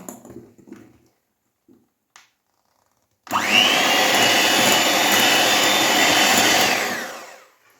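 An electric mixer whirring through cake batter starts abruptly after a few quiet soft noises, then runs loud and steady for about four seconds before winding down.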